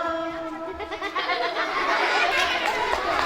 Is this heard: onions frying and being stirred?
no